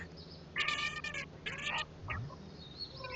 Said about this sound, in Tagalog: may nag-aaway na pusa po dito